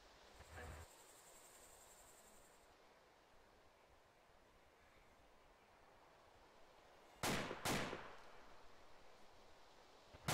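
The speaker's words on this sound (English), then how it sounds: "Don't worry about the shot." Two sharp, loud gunshots from the survival game DayZ ring out in quick succession over a quiet outdoor ambience of faint insect and cricket-like noise, with no talking.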